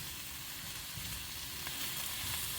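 Boiled radish for poriyal fries in a pan, a soft, continuous sizzle with low crackling, fairly quiet and steady, no voices.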